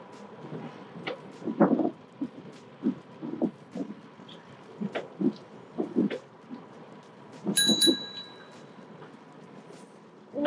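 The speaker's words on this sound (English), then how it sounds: "Why are you ringing the bell?" A bicycle bell on an evening ride along Toronto's waterfront trail gives one short, bright ring partway through, surrounded by a child's and an adult's voices talking over the rolling ride.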